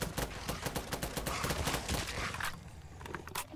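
Rapid semi-automatic fire from an IMI Galil rifle in the Fallout 4 video game, a dense burst of loud repeated shots at close range that thins into a few spaced cracks.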